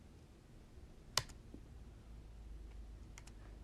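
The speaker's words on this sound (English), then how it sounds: "And then we're going to go ahead and click send." A single sharp computer mouse click on a send button, close and crisp in a quiet room, followed by a couple of fainter clicks.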